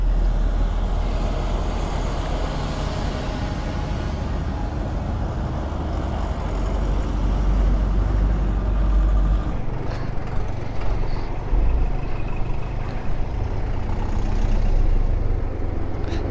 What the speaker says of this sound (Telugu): ఇక్కడ చాలా లారీలు అయితే వస్తున్నాయి.